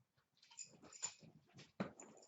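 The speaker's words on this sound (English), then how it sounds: "He's growling at Chewy." A dog growls and whimpers in the background of a quiet room, a string of low grumbles and short whiny yips, soft and somewhat distant, alone without talk.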